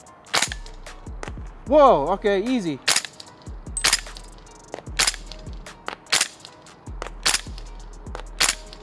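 Single shots from a G&G MGCR 556 gas blowback airsoft rifle crack out one at a time, about eight sharp, close reports spaced a second or so apart, with a man's brief exclamations between them.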